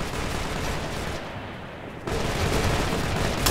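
Hostile gunfire in Operation Flashpoint: Red River crackles as a dense, continuous wash of shots, dipping briefly before swelling louder again.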